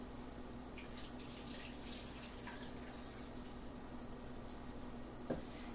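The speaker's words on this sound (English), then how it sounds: "I'm going to add my 2 cups of warm water." Warm water poured from a cup into a small mixing bowl while making homemade play dough: a steady, continuous rushing wash of liquid, close and even throughout, with no talking.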